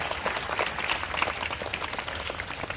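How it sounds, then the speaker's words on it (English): At an Independence Day school function, an audience claps to welcome a guest, a thick, continuous wash of many hands applauding at moderate distance, with no voices standing out. "Let us please give a big round of applause and accord a warm welcome to Sir"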